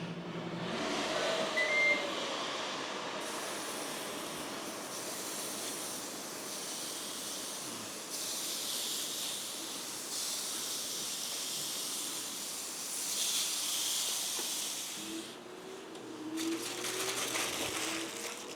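Tri-tip steaks sizzling on a Ninja Woodfire ProConnect 1760W electric outdoor grill in grill mode, a steady dense hiss that swells and eases in waves, close and continuous with no voices.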